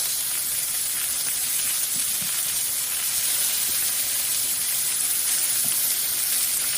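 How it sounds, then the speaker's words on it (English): Steak searing in a hot pan gives a continuous loud, bright sizzle and hiss up close that stays steady throughout, with a few faint knocks underneath. "So we're going to put a nice sear on it."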